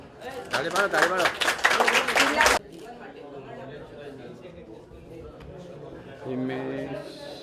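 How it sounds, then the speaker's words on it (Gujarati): Quick burst of audience clapping at a district-level children's science exhibition held at a high school, lasting about two seconds before giving way to talk and room noise. "તાળી મારો"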